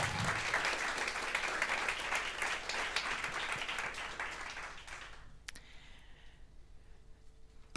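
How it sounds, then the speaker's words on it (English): Audience applause at a circular economy startup pitch event, loud dense clapping that swells and then fades out by about five seconds, leaving quiet room tone with a few stray sounds. "So let's give a big applause to all of you."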